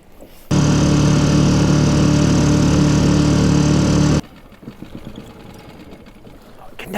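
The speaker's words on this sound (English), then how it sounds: "I can never seem to get that engine to cut." A fishing boat's engine runs loud and steady for several seconds, then cuts out, leaving quieter water and boat noises behind.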